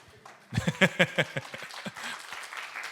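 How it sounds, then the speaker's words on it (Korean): An audience at a Korean church Sunday worship service breaks into a short burst of hand clapping, loud at first and then tapering into scattered claps and murmuring. "박수 한번 드리도록 하겠습니다"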